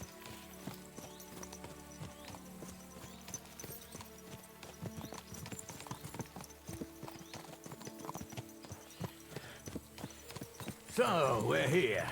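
Horse hooves clip-clop steadily at walking pace in the video game Kingdom Come: Deliverance 2, with background music and ambient game sound and a louder burst near the end.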